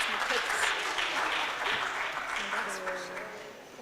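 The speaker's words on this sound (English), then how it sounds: "Ladies and gentlemen, another round of applause for our storyteller" An audience claps for a storyteller at a live event, a steady round of applause that gradually tapers off, with a voice speaking over it near the end.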